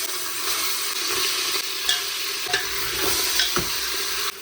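Mutton sizzles and fries in hot oil inside a pressure cooker, a close, continuous hiss with occasional soft stirring knocks and no talk.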